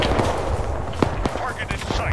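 Gunfire rings out during an SAS mission, a cluster of sharp cracking shots mixed with dense background noise and commotion, sounding fairly close and brief.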